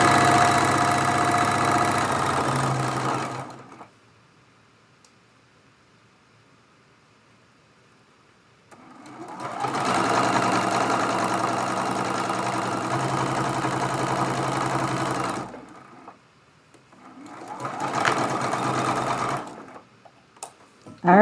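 A sewing machine runs in three steady bursts while stitching the seams of a quilt 9-patch block, a loud buzzing whir that stops completely in the quiet gaps between runs.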